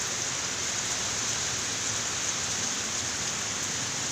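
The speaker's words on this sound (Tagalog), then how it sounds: "Malakas pa rin ang ulan." Heavy rain falls steadily outdoors, a loud, unbroken hiss of water across the whole stretch with no voices over it.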